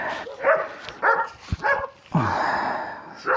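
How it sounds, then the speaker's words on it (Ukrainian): A dog barks in short bursts, several sharp woofs spaced irregularly, close and fairly loud, followed by a longer drawn-out bark. "собака гавкає не дає"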